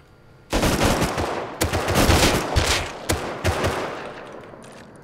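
Automatic gunfire in the survival game Rust erupts in loud, close bursts, several rapid volleys with short gaps between them before tapering off into a fading echo.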